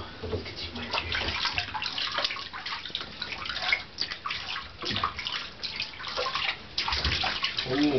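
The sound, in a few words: water running while bathing dog Molly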